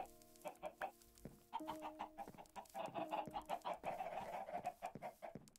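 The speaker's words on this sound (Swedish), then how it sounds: "Jag har en kyckling." A chicken in the video game Minecraft clucks in a steady run of short close clucks while a player talks in Swedish over the top.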